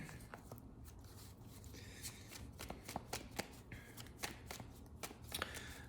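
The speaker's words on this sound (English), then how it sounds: "One more shuffle." Tarot cards are shuffled close up, with quick riffling bursts and soft irregular taps, fairly quiet and without talk.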